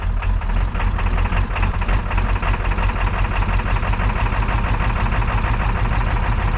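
A 7.3 Powerstroke diesel truck engine runs loud and close, a steady rough mid-pitched rumble with constant vibration and no break throughout.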